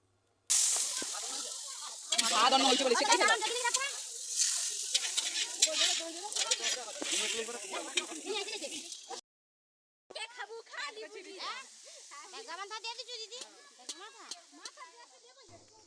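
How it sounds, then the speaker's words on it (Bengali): Fish curry cooking in a wok on a village kitchen stove, with loud, continuous sizzling and frying hiss while the food is stirred, briefly cut off before resuming, and someone talking over it. "ওই কড়ার মধ্যে মাসি হচ্ছে মাছের ঝোলটা রান্না করছে"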